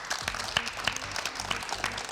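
Audience applause at a student discussion event on higher education, heard as a moderate, uneven patter of hand claps with a few sharper individual claps standing out.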